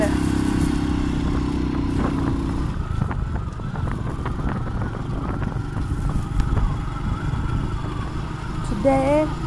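A motorbike climbing a steep mountain road, its engine droning loud and steady throughout with rattling clatter and wind, ending in a short rising whine.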